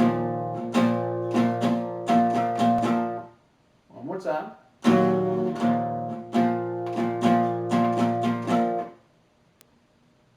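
A guitar plays a riff with rhythmic power-chord strums in two phrases, broken by a short spoken phrase in the pause between them.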